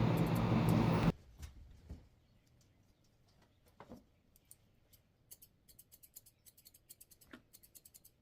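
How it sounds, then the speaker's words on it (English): Curved grooming scissors trimming the tail pom-pom of a senior toy poodle: a burst of noise at the start, then quiet, scattered snips and clicks in short irregular runs close to the microphone. "I'm using my curved scissors to make her pom-pom."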